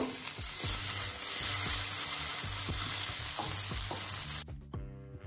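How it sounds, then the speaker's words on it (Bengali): Chhana bara fritters deep frying in hot oil, a continuous bubbling hiss with soft periodic stirring knocks, ending abruptly as the frying sound drops away near the end. "বাকি বড়াটাও ভেজে নেব একইভাবে। এখানে আমি আর তেল দেব না, এই তেলেই ভেজে নেব।"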